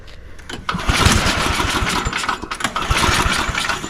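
Small engine being pulled to start, a choppy rattling crank that catches into a single loud pop and brief sputtering, then rough uneven chugging close by.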